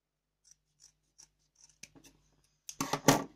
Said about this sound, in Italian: Adesso posso andare a fare questo taglio partendo dai due punti segnati, creerò la casetta. Procedo e taglio.